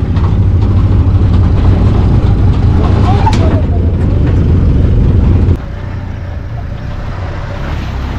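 A car rolls slowly along a village road in Siberia, its engine droning low and steady close by, then dropping to a quieter hum partway through as the vehicle eases along.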